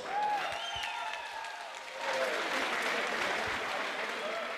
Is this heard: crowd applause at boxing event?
yes